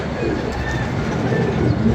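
Pigeons coo close by in a steady, low, continuous murmur of calls.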